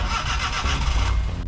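A small Suzuki K6A 660cc turbo car engine cranks and catches, settling into a low, close rumble right after starting.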